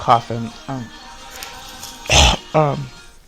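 One short, harsh cough or throat-clear cuts in between stretches of nearby speech.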